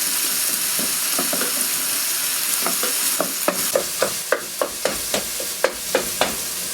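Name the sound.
stirring melting cream cheese and cheddar dip in pan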